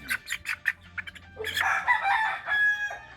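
A rooster crows loudly and close, preceded by a run of short clucks and chirps from nearby fowl, the drawn-out crow filling the second half.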